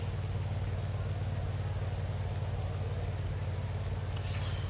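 Rain hisses steadily during a pro cycling race broadcast of stage 2 of Paris-Nice 2023, a constant wash mixed with a low droning hum, with no talk heard.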